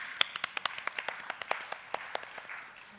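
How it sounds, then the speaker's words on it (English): Scattered hand claps at a workshop, sparse and uneven rather than a full ovation, with roughly a dozen distinct claps over a few seconds at moderate distance. "So let's give a big round of applause to all of them."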